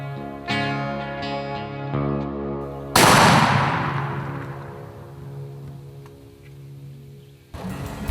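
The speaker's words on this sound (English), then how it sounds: "before Zach took a shot at him" A hunter's shotgun fires once in the Atchafalaya Swamp, a single loud, sharp blast that rolls off in a long fading echo across open water, after some quieter sounds beforehand.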